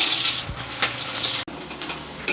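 Chopped onions dropped into hot oil for egg curry, giving a steady crackling sizzle with brief splashy bursts, close and moderately loud.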